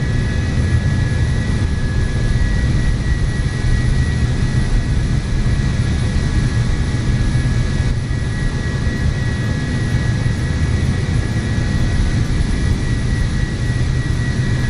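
Fokker F-28 jet engines in Microsoft Flight Simulator give a loud, steady, unbroken whine and roar with a constant high tone, running alone without talk.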